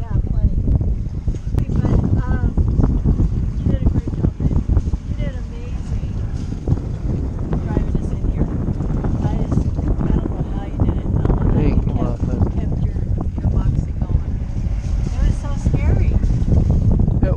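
Strong storm wind buffets a sailboat at anchor on the Chesapeake, a constant loud roar of gusts across the microphone with sloshing water beneath, steady and close throughout.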